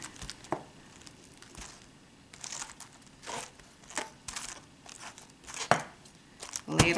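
Knife cuts thin slices of cabbage on a cutting board in a series of soft, irregular crunching chops, quiet and close, with brief crinkly leaf rustles between strokes.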